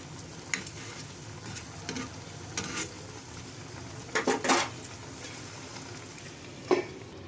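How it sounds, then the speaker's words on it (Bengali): A pot lid is lifted while prawns with spring onions cook in a quiet, low sizzle, followed by scattered scraping stirs and a couple of sharp metallic clinks of a utensil against the pan. "এবার আমি ঢাকনাটা খুললাম।"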